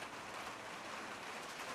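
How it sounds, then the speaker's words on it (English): Steady rain patters outdoors during a cheese-smoking session, a continuous broadband hiss of drops at even, moderate loudness with no voices over it. "it's just started to rain, so hopefully the noise isn't going to be too bad"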